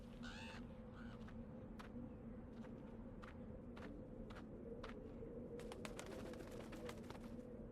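A crow in the video game Dreamfall: The Longest Journey caws and flaps in a city scene, with sharp repeated wingbeats or clicks that thicken toward the end over a constant low ambient hum.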